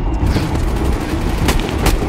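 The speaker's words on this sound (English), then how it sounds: "You might want to wait till after the gunfire is over?" Dense, rapid bursts of automatic gunfire in the film Ambulance (2022) rattle continuously, loud and close, with a couple of sharper cracks standing out.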